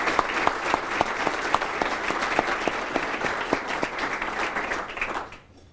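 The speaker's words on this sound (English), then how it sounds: "I would like to start out today by just having a nice round of applause in recognition of all our nominees" Audience at a chamber of commerce awards ceremony applauds its nominees: sustained, even clapping with sharp individual claps standing out, steady for several seconds before trailing off abruptly at the end.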